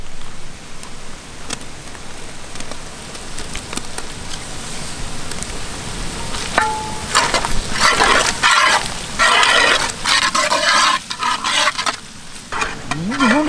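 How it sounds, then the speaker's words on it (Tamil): Crushed ginger and garlic sizzle in ghee while being stirred; the frying crackle starts moderate, then grows louder and busier partway through, with clinks of the utensil against the pan. "நல்ல நெய்ய இடிச்ச இஞ்சி பூண்டு போட்டு"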